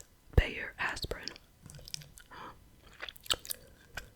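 Gum chewed close to the microphone makes wet, sticky smacks and clicks in an irregular rhythm, mixed with soft whispering and quiet page handling.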